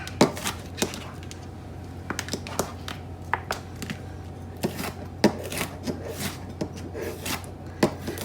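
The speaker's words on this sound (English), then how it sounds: "I'm gonna finish getting these chopped" A knife chops peppers on a cutting board for meal prep. The cuts are quick, irregular taps that keep coming nearby over a low background hum.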